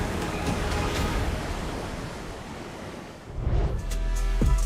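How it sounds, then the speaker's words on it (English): Fierce Indian Ocean waves crash far below a high mountain road, a dense continuous roar of surf mixed with wind buffeting the microphone, swelling louder near the end. "the fierce waves of the Indian Ocean crashing hundreds of meters below"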